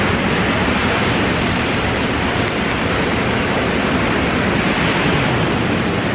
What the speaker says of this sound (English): It's probably really loud because of the waves